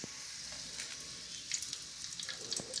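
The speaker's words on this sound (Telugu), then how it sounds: "నూనె వేడెక్కిందండి. ఇందులోకి నేను ఫస్ట్ బిర్యానీ ఆకేసుకుంటున్నాను." A bay leaf sizzles in hot oil for biryani, a soft continuous frying hiss with scattered small pops, fairly quiet and without talk.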